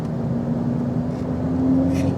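A Volkswagen Golf heard from inside the cabin while driving, its engine giving a steady, close, continuous drone with a faint whine that holds throughout and swells slightly near the end.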